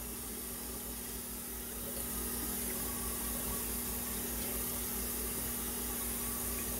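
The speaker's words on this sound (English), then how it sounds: "drench it in the water, every bit of it." Cold water runs steadily while a cooling vest is drenched in it, a continuous rushing, splashing hiss close by that swells slightly partway through, with no talking.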